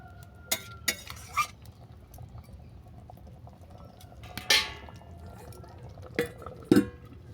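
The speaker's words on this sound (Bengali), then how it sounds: "ডিশটা ঢেকে দেব" Metal lid set over a cooking pan of prawns in mustard paste, a few sharp clinks and clatters against a soft, steady low background.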